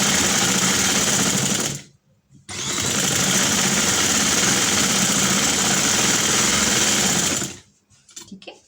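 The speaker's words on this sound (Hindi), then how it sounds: "किनारे के ऊपर बिल्कुल सिलाई लगा दी।" Sewing machine stitching along the edge of fabric for a dress design: a loud, steady mechanical whir in two long runs, with a short pause near two seconds and a stop near the end.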